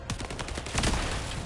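Rapid gunfire in The First Descendant on hard mode, a close, loud rattle of shots firing in quick succession with no talk.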